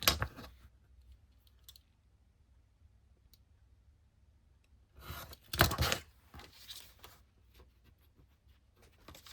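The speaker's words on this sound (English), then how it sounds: "I already know it's too big, so I'm going to trim here." Scissors trim paper for a winter botanical lapbook craft, with a few crisp close snips at the start and a busier cluster of cuts midway, separated by quiet pauses and no talking.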